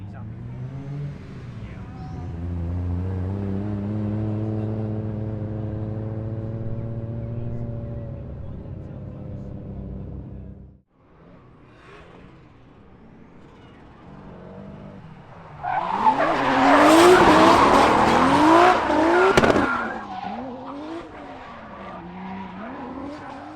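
BMW E46 drift car at a drift league round, its engine droning and revving steadily, then a loud burst of revving with tire squeal and skidding, with people talking nearby.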